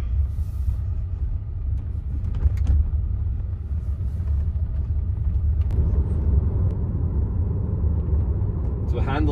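A Tesla Model Y Juniper drives along a road, a steady low rumble of tyres and cabin noise at close range throughout, with people talking inside over it.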